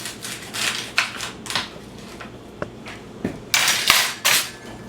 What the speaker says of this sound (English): Basically, you want to chop off the stems, the ends, because these are hard.